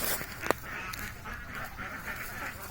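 Ducks being herded home quack repeatedly at a moderate distance in a short burst of overlapping calls over faint outdoor background noise, with a single sharp knock near the start.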